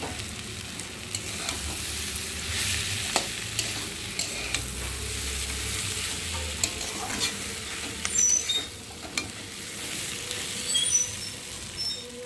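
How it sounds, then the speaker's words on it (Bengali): Boiled potato is sautéed with spices, egg and tomato for Bengali aloor chokha, a soft continuous sizzle under intermittent spoon scrapes and light taps against the pan. "আর এখন আমি সেদ্ধ করা আলুটা দিয়ে ভালো করে মশলার সাথে কষিয়ে নেব"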